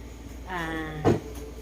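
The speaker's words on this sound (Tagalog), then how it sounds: "sinara ni Nana yung pinto" A door inside a home swings shut: a short creaking whine followed by a single solid thud, close by, with no voices.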